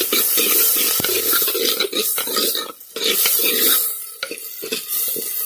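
Onions with a pinch of turmeric sauté in hot oil, giving a loud, close, continuous sizzle with scraping stir strokes that come and go in waves.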